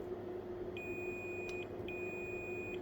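A multimeter's continuity beep, steady, high and close up, holds for about two seconds while testing a shorted main power rail in an Asus UX363E laptop, broken by a couple of tiny gaps over a faint background hum.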